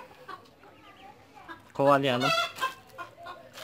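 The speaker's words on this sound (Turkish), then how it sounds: "Tavuklar biraz korktu. İlk defa ördek görüyorlar çünkü." Chickens cluck and squawk in alarm, startled by newly arrived ducks in a backyard coop, a loud burst of agitated calls near the mic with a person speaking briefly around it.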